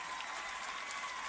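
Audience applause in an auditorium at a football club presentation, a brief dense burst of steady clapping from a crowd, with no voices.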